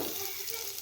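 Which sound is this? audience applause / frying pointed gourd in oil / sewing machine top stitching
frying pointed gourd in oil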